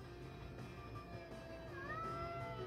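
A house cat meows faintly, a short rising call near the end heard over a steady background of game music or hum.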